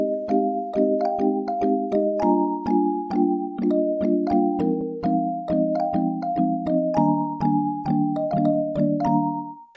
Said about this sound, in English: I'm going to show you how to synthesize a Kalimba in Serum without using any sampling.